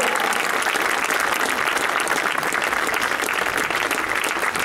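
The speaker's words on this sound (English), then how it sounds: "a nice round of applause" A crowd at Wiscasset Speedway claps during a tribute gathering, a thick, continuous wash of applause that stays loud and even for the whole stretch.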